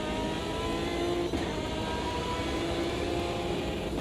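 Race car in Automobilista 2 passing beneath a bridge, a continuous loud engine drone with a faint echoing wash as it goes under, steady throughout without talk.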